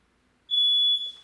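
A home smoke detector goes off with a single loud, shrill electronic beep lasting about half a second, then cuts off abruptly into a quiet room.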